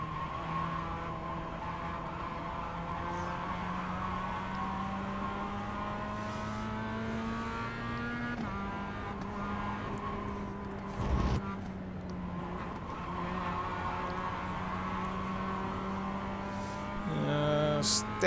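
Mazda MX-5 race car engine droning steadily at Oschersleben in iRacing, a constant buzzing note that rises and shifts between gears, with someone talking quietly over it.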